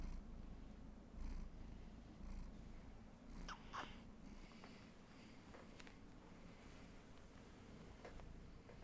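A cat purrs softly and steadily up close, a low continuous rumble with faint rustles and small sniffing sounds on top, no talking.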